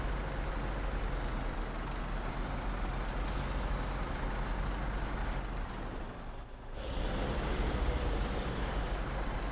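A Russian military truck is driven in the video game SnowRunner. A loud, steady diesel engine drone carries through, with a sharp air-brake hiss partway in and a brief dip in the engine roar later, with no talking.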